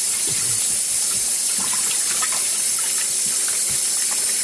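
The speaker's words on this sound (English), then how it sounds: "So here we go, in some cold water." A kitchen tap runs cold water over felted wool for rinsing, a loud, steady gushing stream with small splashes and gurgles throughout.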